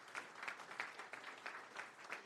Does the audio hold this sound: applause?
yes